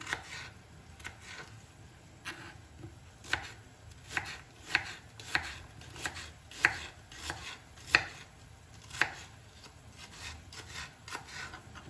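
A knife slices an onion into half-moon pieces on a cutting board, a steady series of close, crisp chops repeating about once a second, alone without talk.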